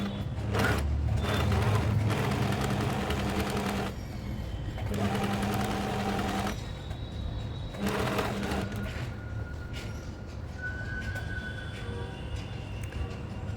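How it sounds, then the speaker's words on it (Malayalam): Sewing machine stitching a fabric crop top, running in loud bursts of rapid whirring that stop and start several times, with quieter pauses between runs. "ഇനി അതിൻ്റെ പുറത്തുകൂടെ തന്നെ നമുക്ക് സ്റ്റിച്ച് ചെയ്ത് കൊടുക്കാം."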